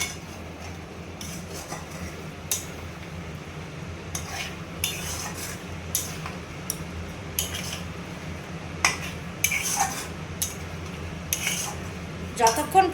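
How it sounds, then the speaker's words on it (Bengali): Spices for mutton korma, including a raisin paste, being fried and stirred in a pan, a metal spoon repeatedly scraping and clinking against the pan over a low sizzle, close and steady. "এগুলো দিয়ে এবার ভালোভাবে আমি নাড়িয়ে চাড়িয়ে নেব।"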